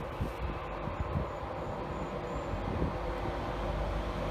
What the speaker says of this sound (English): Next in, Dave's train.